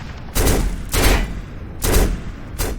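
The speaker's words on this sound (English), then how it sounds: "I heard him firing on me" An enemy shotgun firing in the video game Black: four heavy, booming blasts spaced unevenly about half a second to a second apart, loud and close, with no talk.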